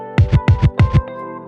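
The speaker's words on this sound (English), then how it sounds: "Then we get this cool pickup of the scratch sound" Record scratch pickup in a track: three quick back-and-forth scratch pairs in a tight rhythm, then a short sustained tone as it settles, punchy and close.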